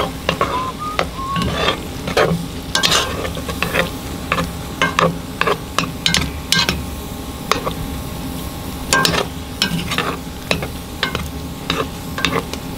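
Beef and onion chilli cooks in a cast iron pot at the front of a wood-fired maple syrup evaporator, with a steady low sizzle broken by frequent sharp spoon scrapes and clicks against the iron throughout.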